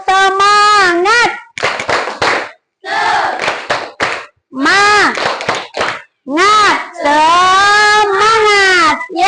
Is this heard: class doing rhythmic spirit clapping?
yes